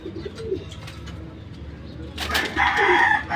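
Racing pigeons coo softly in a loft, low murmuring calls scattered through the moment, followed by a brighter burst of fluttering and louder calling near the end.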